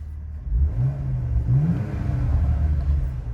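Porsche Macan S engine switched into sport mode, a low rumble with the idle revs rising slightly in a couple of short swells, heard close and steady with no talking.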